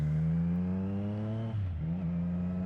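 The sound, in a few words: motorcycle exhaust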